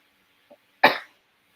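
A single sharp cough, close and fairly loud, preceded by a tiny faint throat sound.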